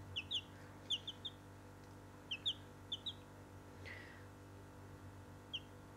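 Newly hatched chicks cheep in short bursts of high, bright peeps, a few quick calls at a time with gaps between, faint and close against a quiet background hum.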